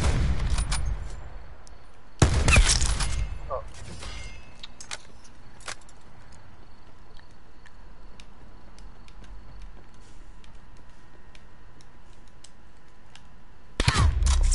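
Gunfire in a video game: a few sharp, loud shots break out at the start and near the end, separated by a long stretch of quiet background noise with occasional faint clicks.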